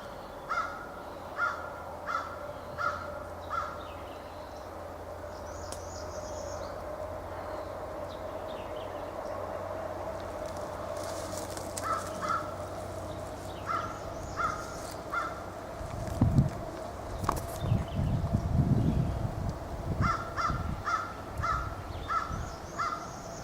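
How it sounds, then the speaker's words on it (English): Crows caw over an area near an abandoned house and a graveyard. Their harsh calls come in repeated bursts at middle distance over a steady outdoor hum, growing busier and louder toward the end. "that's where all the crows are going nuts"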